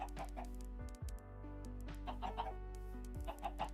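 Chickens in a Copper Age survival video game cluck, with sharp clicking, clacking accents layered over a steady low hum.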